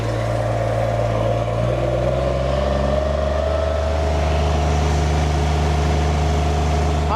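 A small machine powered by a 14-horsepower Rato gas motor runs loud and close at low revs, a steady droning hum whose pitch drops slightly partway through, with no talk over it.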